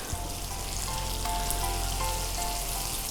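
Pieces frying in oil in a pan, standing in for chicken in a fried chicken and rice dish, make a loud, close, steady bubbling sizzle with a low hum beneath and no talking.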